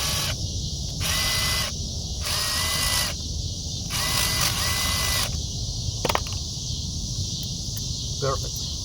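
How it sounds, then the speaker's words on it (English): A power drill bit enlarges a bolt hole on a 2015 Kia Soul front wheel part during ABS sensor replacement, loud high whining bursts in short repeated pulses, then a few clicks and a brief rattle. "I'll get a drill bit and make the hole a little bit bigger."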